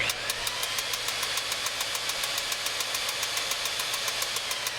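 A CableGlider cable ride motor runs at high speed, a steady close mechanical drone with a rapid, evenly spaced ticking or knocking pulse throughout and no talking.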